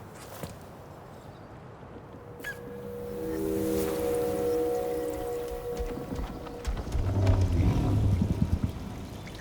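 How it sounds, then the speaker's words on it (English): Flowing water in the video game Jusant, a steady wash of moderate loudness with low drawn-out tones rising through the middle and knocking sounds toward the end. "Water."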